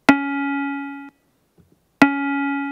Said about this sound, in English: That's without the filtering, and then with the filtering, it sounds like this.